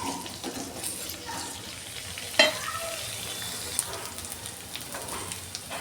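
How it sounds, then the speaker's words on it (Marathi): Onion sautéing in a pan with cloves and peppercorns for a drumstick vegetable dish, a steady soft sizzle with scraping stirs and one sharp clink of a utensil partway through. "कांदा छान परतून घ्यायचा"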